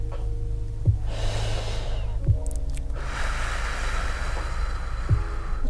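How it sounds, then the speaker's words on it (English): Slow, deep breathing during a guided meditation, with several audible inhales and exhales spaced a second or more apart over a low steady hum, close and calm, with no talking. "Do your deep breathing"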